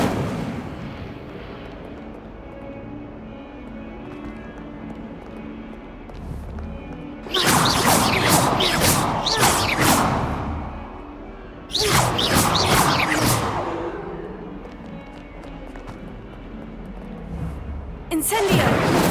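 An Incendio fire spell in Hogwarts Legacy erupts in two loud, roaring bursts of crackling blaze, each lasting a few seconds, over a quieter game backdrop, with a third burst starting at the end.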